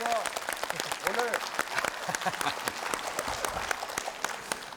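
A broadcast studio audience welcomes a trot singer with warm applause, steady clapping running under a host's voice throughout.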